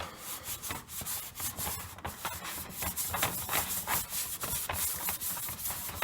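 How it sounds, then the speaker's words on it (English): A sponge with baking soda scrubs a Pampered Chef stoneware pan in quick, steady back-and-forth strokes, close and gritty, continuous for several seconds with no voices. "So I've been sitting here scrubbing for a minute or two."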